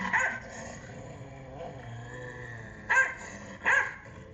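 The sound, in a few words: dog barking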